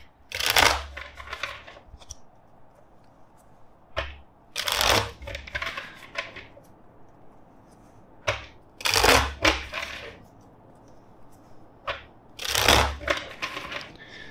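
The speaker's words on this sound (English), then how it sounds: "first let's shuffle four times" Tarot cards shuffled by hand in several brisk, close riffling bursts separated by short quiet pauses, with no talking.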